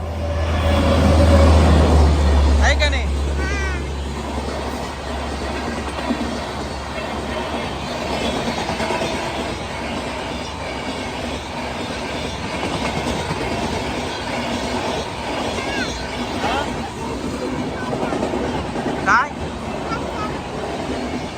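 A train passing a railway level crossing where vehicles are waiting, heard as a steady rumble with rhythmic clickety-clack of wheels, loud and close, while people talk nearby.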